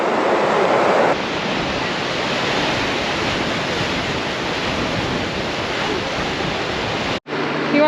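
Waterfall near the Crystal Mill on Schofield Pass, Colorado: a steady, close roar of rushing water filling the scene, with a brief dropout near the end.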